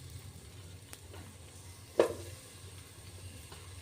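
Onions and spices sizzling and crackling in hot oil while cooking egg biryani, a faint steady fry with a low hum underneath, a few soft pops and one sharper crackle near the middle.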